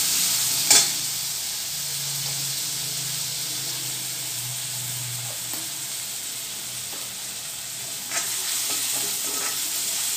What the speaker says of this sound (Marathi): कांदा पण आपल्याला ब्राऊन कलर होईपर्यंत भाजून घ्यायचे।